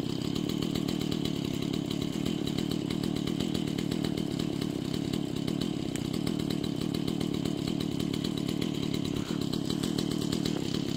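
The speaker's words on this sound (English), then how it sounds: "he wants to see where the fence is so he doesn't hit it with the chainsaw" A chainsaw runs continuously near a buried wire fence in winter woods, a loud steady buzzing drone close by throughout, without any pauses or voices.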